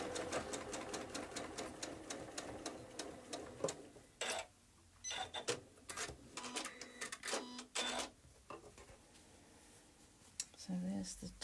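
Sewing machine stitching the seams of a Churn Dash quilt block, a fast rhythmic needle clatter running in bursts with short pauses, fairly close.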